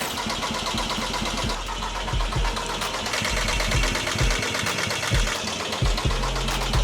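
A VW TDI diesel car engine cranks repeatedly without catching, a steady mechanical churning with rhythmic pulses throughout, loud and close, on a weakening battery.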